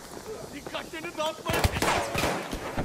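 Battlefield 1 gunfire, bursts of rapid shots building into heavy firing partway through, with someone talking over the first part.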